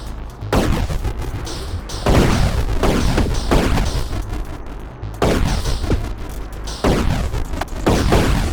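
Tank cannon shots in the Atari 50 game Quadratank: a series of heavy booming blasts spaced a second or two apart, each followed by a rumbling decay, loud and alone with no talk.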